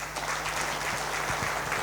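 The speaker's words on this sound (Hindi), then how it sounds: "उनके लिए भी जोरदार तालियां" An audience at an insurance advisors' awards event claps loudly for award winners, a continuous, close, energetic burst of applause with a faint electrical hum beneath it.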